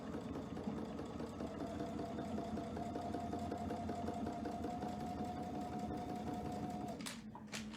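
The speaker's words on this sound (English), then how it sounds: "to stitch that diagonal line on the edge" A sewing machine stitches a diagonal line along a fabric edge, running with a loud, steady, fast mechanical whir close up and stopping abruptly just before the end.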